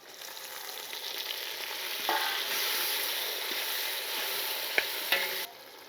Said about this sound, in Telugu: ఇది కూడా వేసేసుకొని బాగా మగ్గనివ్వాలండి